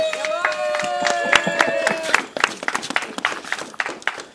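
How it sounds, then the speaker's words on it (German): Audience applause at a Swabian-Alemannic Fasnet carnival event, dense steady clapping that thins into scattered individual claps, fairly loud and close, with a voice briefly heard within it. "Also, das ist noch ein Beifall wert,"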